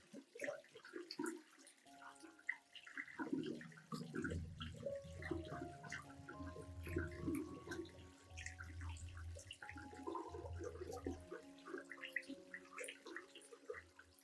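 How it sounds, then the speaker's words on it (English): Running water splashes and gurgles from a tap, flowing steadily with shifting sloshing as an orchid's roots and stem are rinsed under it, fairly close and quiet. "I will thoroughly rinse the entire plant with clean water to completely remove old media, dirt"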